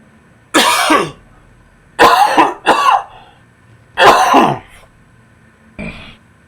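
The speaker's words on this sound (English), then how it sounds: "Little cough." A man coughs and clears his throat in a run of loud, close bursts, about five harsh rasping fits separated by short silences, with no speech.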